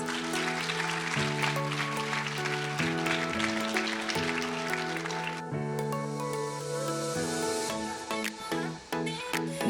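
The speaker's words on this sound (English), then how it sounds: "Let's please give them another round of applause." Applause at a 2022 leadership breakfast honors graduates. A crowd's clapping rises over steady, sustained music chords and then thins out midway while the music carries on.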